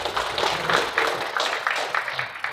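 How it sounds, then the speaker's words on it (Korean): Applause at a formal Korean ceremony honouring a guest, a steady dense wash of many hands clapping in a hall, sustained and fairly even throughout without voices. "다시 한번 큰 격려의 박수를 보내주시면 고맙겠습니다"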